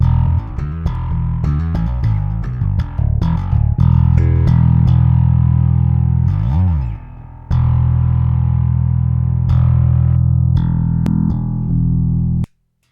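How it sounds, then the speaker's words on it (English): A 5-string bass played through clean, guitar cab-sim and distortion-pedal chains blended in parallel, giving a loud, steady run of picked notes with a brief drop around the middle and no talk. "So what you are hearing now is a 3 signals in parallel, like clean bass sounds, this guitar cabsim and this distortion pedal."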